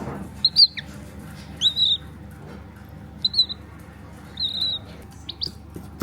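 Small pet birds chirp while being fed, a run of short, sweet, high tweets in separate bursts, close by and fairly clear over a low indoor hum.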